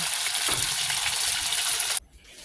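A steady, loud sizzle of fish frying in hot oil, cutting off abruptly near the end and leaving a quieter hiss.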